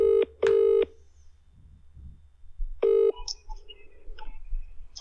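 A phone being dialed for a prank call: a few loud steady tones, then a clicking connection and faint line noise, with no voices.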